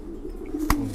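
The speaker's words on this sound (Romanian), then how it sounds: "Eu am în mână un porumbel" A breeding pigeon held in the hand gives a soft low coo at close range, with a brief sharp knock partway through.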